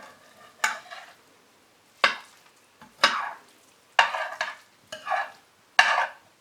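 A spoon works through a baked, gluten-free and dairy-free stuffed bell pepper rice casserole, making six or seven short scraping, squelching strokes with quiet gaps between them, close and clear with no talk.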